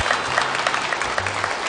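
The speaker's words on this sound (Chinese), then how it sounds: "来，掌声有请李云飞、许健新怼春联。" Dense, steady clapping from a crosstalk comedy audience welcoming two performers on stage, with a full room applauding continuously at close range.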